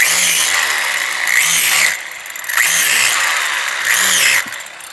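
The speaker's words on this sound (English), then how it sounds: "So David just wanted to show how fast the drill is when he's doing this." A power drill bores holes into a shiitake mushroom log in quick repeated bursts, its high whine rising and falling with each hole, close and loud, with no voices.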